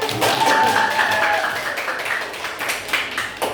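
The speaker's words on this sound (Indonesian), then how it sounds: "Boleh tepuk tangan dulu" A classroom of students claps hands for a civics lesson, a short burst of scattered clapping that swells and then thins out over a few seconds, with faint voices in the room.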